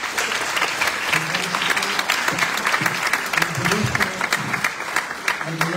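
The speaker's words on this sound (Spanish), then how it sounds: "Lo recibimos también con un aplauso." Audience applause welcoming a professor at a university architecture workshop presentation, loud sustained clapping from a full room with some voices underneath.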